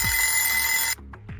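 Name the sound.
alarm clock ringing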